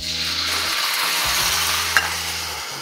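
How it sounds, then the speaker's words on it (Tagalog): Pork belly frying in a pan for adobong sitaw as soy sauce goes in, a loud, steady close sizzle with a few stirring scrapes and one brief clink. "Yung soy sauce, ilagay nyo na din."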